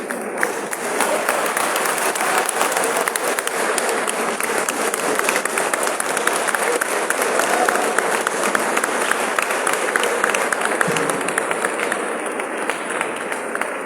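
Sustained, dense applause from a large audience at a university academic staff orientation programme, loud and steady throughout, with many overlapping claps and a faint murmur of the crowd.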